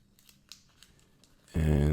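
Packaging for a Bambow platinum safety razor is peeled back: faint rustles and small crinkles, then a sudden loud, sustained tearing-peel sound during the last half second.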